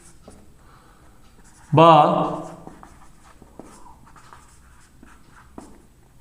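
A pen scratches faintly on paper while chemistry notes are written out, soft intermittent strokes under a quiet room, with a brief spoken syllable interrupting partway through.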